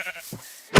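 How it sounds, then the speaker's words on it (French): A sheep in the Minecraft video game bleats in short, clipped game-sound calls, a faint one first and then a louder, closer bleat at the end. "tuez les moutons"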